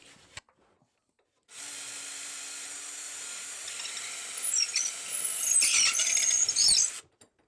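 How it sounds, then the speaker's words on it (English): A power drill with a long bit bores through a wooden guitar neck pocket, a steady high whirring grind that roughens and rasps as it bites deeper, close and loud, ending abruptly, with no talk. "we're just going to drill through the neck pocket, the truss rod little notch there, drill through both pickups"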